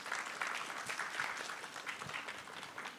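An audience at a renewable energy event claps to welcome someone speaker, a brisk, continuous patter of many hands at a fairly faint, even level.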